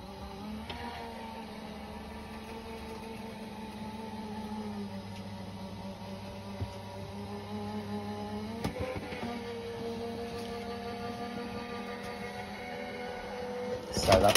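A motorised die-cutting machine runs a metal die through for a paper craft lantern, giving off a steady mechanical hum and whirr with a few clunks, while a person talks quietly in the background.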